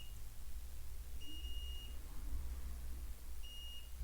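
A multimeter set to continuity mode gives two short, high electronic beeps separated by a pause, clear over a low background hum during diagnostic work on a Ford truck interface.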